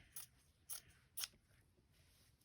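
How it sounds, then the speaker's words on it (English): Three crisp snips of fabric scissors cutting paper, evenly spaced about half a second apart, close and quiet against a faint room hiss. "I'm going to trim it with my regular scissors, my fabric scissors."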